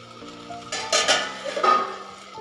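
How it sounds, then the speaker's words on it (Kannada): Tomatoes and onions cooking in a pan for bottle gourd sambar, a soft steady sizzle with a few louder scraping stirs of a spoon against the pan, close and with no talking. "ಈಗ 2 ನಿಮಿಷಗಳ ಕಾಲ ಇದೆಲ್ಲ ಚೆನ್ನಾಗಿ ಟೊಮೊಟೊ ಮತ್ತು ಈರುಳ್ಳಿ ಫ್ರೈ ಆಗಲಿ"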